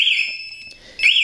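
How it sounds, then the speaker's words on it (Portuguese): A loud, shrill Master Racing car alarm sounds close by, its high warbling tone breaking off briefly before sweeping back in. "o alarme dispara se você ficar mexendo muito"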